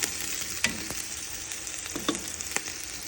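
Pork chunks fry in a pan for patatim, a steady close sizzle with a few sharp crackles and pops, no talking.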